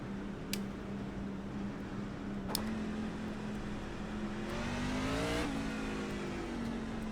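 A race car passing by in iRacing at North Wilkesboro, a steady engine drone whose pitch rises and then drops as it sweeps past, with brief sharp clicks along the way.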